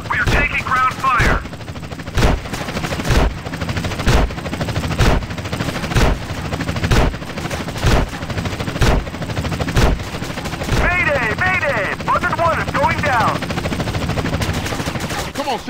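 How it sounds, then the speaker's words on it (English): Rapid bursts of automatic gunfire ring out in GTA San Andreas during a helicopter chase, loud and near, with short pauses between volleys and voices calling out at the start and again near the end. "CJ, jump on that helicopter."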